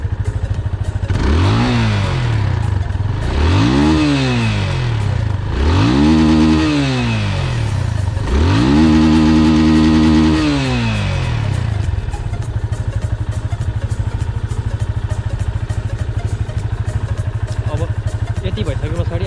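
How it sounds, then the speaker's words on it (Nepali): A secondhand motorcycle's engine is revved four times in a row during a pre-purchase check, each rev climbing and falling loudly up close before it settles back into a steady idle. "अब अलिकति बाइकको चाहिँ रेस बढाएर पनि सुनौँ हामी।"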